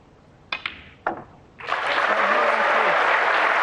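Crowd at a snooker match in Riyadh: a few sharp clicks of the balls, then sustained warm applause swelling up and continuing, with a voice briefly underneath.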